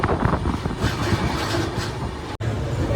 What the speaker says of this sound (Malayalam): ഇവിടെ നിന്ന് അപ്പോൾ ട്രെയിൻ എടുത്തിട്ടുണ്ട്.